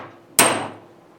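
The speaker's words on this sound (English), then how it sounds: "We're going to need a hammer in order to use the disc cutter, and you're going to need a heavy hammer." A heavy hammer delivers one sharp, loud blow to a disc cutter punching a disc from copper sheet, followed by a ringing metallic decay that fades over about a second.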